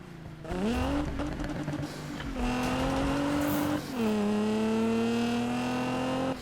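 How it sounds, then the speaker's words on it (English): A 2017 Nissan GT-R engine in the Need for Speed 2015 racing game, revving loud and close as it climbs through gears, with rising pitch, brief dips at shifts and boost whine layered over the roar. "the sound of that boost is actually pretty insane"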